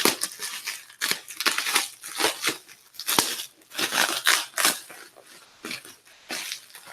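Repeated crunching, crinkling cuts through packaging in a busy, uneven rhythm, close and steady for several seconds.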